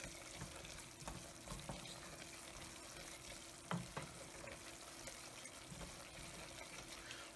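Flour roux being stirred with a wooden spoon in a pan for velouté sauce: a soft, continuous sizzle with faint scraping strokes, quiet and close, with no speech.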